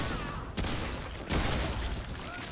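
A couple of sharp gunshots in the video game Remnant 2, two loud cracks about a second apart over a dense, noisy game soundscape, with no talk.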